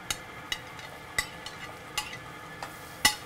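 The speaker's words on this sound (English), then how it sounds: "We're gonna saute the garlic and shallots until they soften up a little bit." Garlic and shallots sautéing with diced pumpkin in a pan, a soft sizzle broken by sharp spoon taps and scrapes at irregular intervals.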